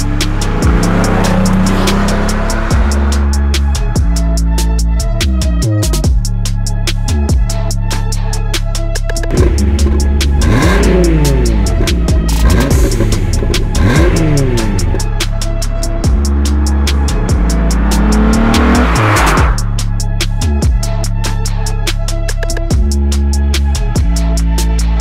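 A Volkswagen VR6 car engine drones and revs up and down repeatedly, its pitch sweeping higher then settling, loud and close throughout.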